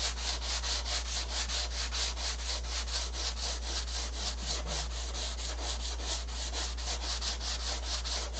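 Wood sanded by hand with rapid, even back-and-forth strokes, around four per second, close and steady with no voices.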